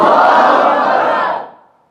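A large crowd at a religious gathering answers a takbir call by shouting Allahu Akbar in unison. The chant is loud and sustained, then fades out quickly after about a second and a half.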